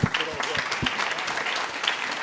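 Audience applause at a press conference for the Grand Raid race, a dense, steady wash of many hands clapping for a couple of seconds, fairly loud and close.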